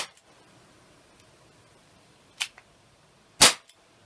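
A Dan Wesson 4 softgun revolver firing, two sharp, close cracks about a second apart, the second louder, each followed by a tiny click, against a quiet room.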